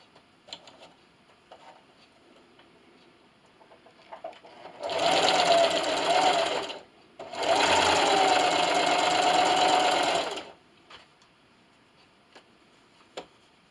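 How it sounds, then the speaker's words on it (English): A sewing machine chain pieces quilt strips with a straight stitch, whirring loudly in two steady runs of several seconds with a short pause between and faint handling clicks around them. "I'm just going to go ahead and chain piece all 18 pieces."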